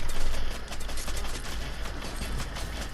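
Rapid gunfire in the video game Fortnite, a dense continuous burst of shots filling the whole stretch, loud and close with no voices.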